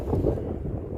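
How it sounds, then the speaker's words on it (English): Strong winter wind buffets the microphone on a cold, exposed hillside at Holmenkollen in Oslo, a loud continuous rumbling roar that fills the moment with no clear speech. "it's cold and windy."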